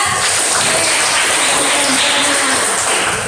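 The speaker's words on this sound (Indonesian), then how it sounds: "Semua beri tepuk tangan untuk Rehan." A classroom audience applauds, a steady wash of clapping that carries on without pause for a few seconds.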